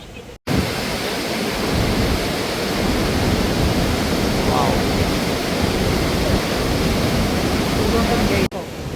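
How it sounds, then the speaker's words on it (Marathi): Upper waterfall at Banff, a steady loud roar of falling water that fills the whole stretch, broad and noisy like rushing white noise, with a brief cut near the start. "सो आत्ता आम्ही पाहिला हा अप्पर वॉटरफॉल."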